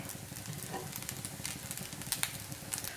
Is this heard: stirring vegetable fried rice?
yes